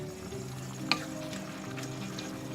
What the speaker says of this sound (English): there's no reason that I can't be frying this egg at the same time